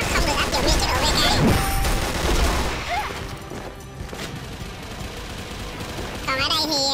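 Dense, rapid bursts of AK47 Silver assault rifle fire in a Chinese-made legendary campaign shooter game, loud and close, with booming impacts over roughly five seconds before the shooting thins out near the end.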